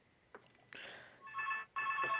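A phone rings during a casual two-person teenage podcast: two fairly quiet bursts of electronic ringing follow a short rustle, with the room otherwise quiet.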